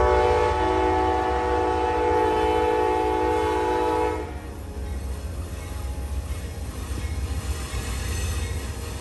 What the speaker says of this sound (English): a horn rings out just north of the station